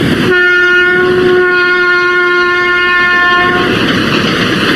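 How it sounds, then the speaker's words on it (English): A train rolls past on a railway line running right beside Nur Jahan's tomb, its steady loud rumble with sustained horn-like tonal layers filling the whole stretch close by. "The tomb of Nur Jahan lies today right up beside a railway line."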